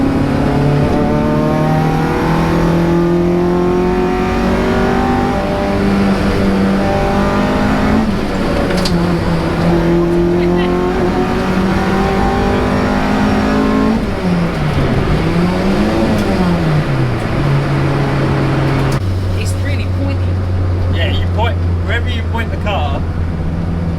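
A B18-swapped EF Honda Civic with a 9000 rpm engine revs hard and climbs through the gears from inside the cabin, its loud engine note rising and dropping with shifts while people talk over it.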